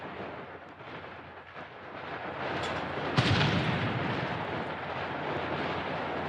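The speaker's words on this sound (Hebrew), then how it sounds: "מה שאתם שומעים כאן אלו קרבות, ירי, מכל הכיוונים" Continuous rumbling din of distant gunfire and fighting around Shifa hospital in Gaza, with a sharp louder crack about halfway through, no voices.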